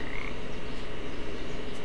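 A frog croaks in the video game Papo & Yo, a low rasping croak repeating steadily against a soft ambient game background, close and clear, with no one talking.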